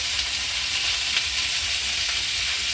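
Tomato, ginger, garlic and a few cashews frying in a pan, a steady loud sizzle with stirring, close and continuous with no talk.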